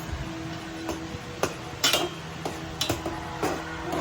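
A spoon clinks and scrapes against a pot as food is stirred, with a handful of sharp metallic taps at irregular intervals over faint background noise.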